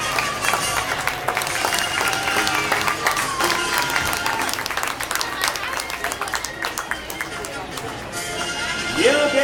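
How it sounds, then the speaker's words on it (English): Rodeo audience at an opening ceremony giving a round of applause as riders enter, a dense, sustained wash of clapping from a large crowd under an announcer's voice. "what do you say about a round of applause as they enter?"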